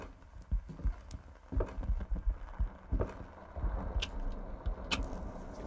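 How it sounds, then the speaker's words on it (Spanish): A heart pounds in the Minds Eyes video game, a steady, heavy thumping rhythm of low beats that runs through the clip over a faint dark ambience. "¿Por qué está el corazón pum pum pum pum pum pum?"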